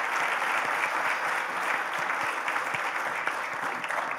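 An audience at an awards ceremony applauds as the faculty dean is invited to the stage, steady dense clapping filling the room without a break.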